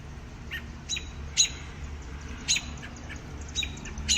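Agitated wild birds squawk and chirp in short, sharp calls scattered every second or so over a low outdoor background hum, some calls nearer and louder than others.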